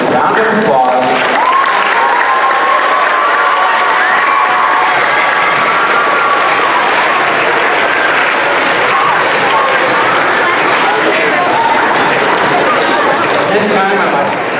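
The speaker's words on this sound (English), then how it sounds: "Let's give a big Festus Intermediate round of applause." A large audience at an intermediate school Veterans Day assembly claps loudly and continuously for several seconds, with scattered cheers and voices mixed into the applause.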